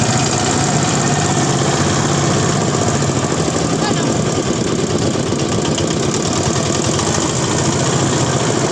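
A trawler boat's engine runs loud and close on a river near Barishal, a steady rapid chugging drone with dense vibration that holds without break throughout.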